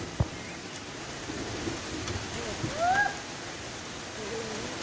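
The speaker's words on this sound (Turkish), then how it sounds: "Evet, şansımızla yağmur da başladı. Gök gürültüme sesleri de geliyordur zaten." Steady rain hiss at a picnic area by the İnceğiz caves in Çatalca fills the scene with a low rumble underneath, like distant thunder, and a brief faint voice or bird-like tone partway through.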